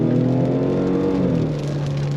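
A 2022 Ford Explorer ST-Line SUV on 20-inch wheels accelerating under throttle, its engine a loud, steady droning hum with layered tones held close and continuous throughout, no voices over it.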